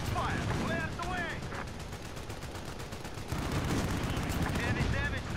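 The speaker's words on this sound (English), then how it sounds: "We're taking fire." Rapid gunfire bursts crackle in Call of Duty Modern Warfare on the Euphrates Bridge map, dense automatic fire continuing throughout with a heavier stretch near the end, with game radio voices speaking over it.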